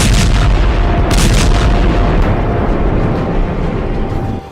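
Dense, continuous rumbling booms of missile explosions from an Iranian strike on Israel, loud and roaring throughout with layered blasts and no speech.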